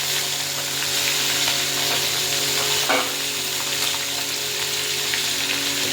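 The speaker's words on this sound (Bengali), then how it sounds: "এবার একটা একটা করে ওই মাছগুলোকে সুন্দর করে ভেজে নেব।" Koi fish frying in hot oil in a pan for tel koi, a loud, steady close sizzle and bubbling roar with a faint low hum underneath and one brief sharper crackle midway, no talking.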